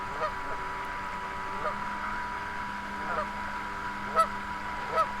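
Geese honk near a pond with an RC speedboat, a few short calls rising over steady background noise, the two loudest near the end.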